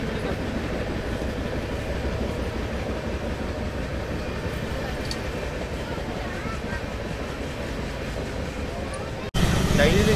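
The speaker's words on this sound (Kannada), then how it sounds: "ಟ್ರೈನ್, ಟ್ರ್ಯಾಕ್ ಸೌಂಡ್ಸ್ ಎಲ್ಲ ಕವರ್ ಮಾಡೋಣ ಇದರಲ್ಲಿ" Golgumbaz Express sleeper coach running on the rails, a steady loud rumble and rattle throughout that shifts abruptly near the end, with no clear talk over it.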